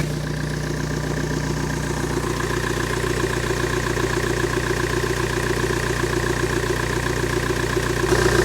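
Renault Trafic van with a faulty alternator idling steadily, a close, even low engine drone with a rhythmic mechanical pulse, no talk.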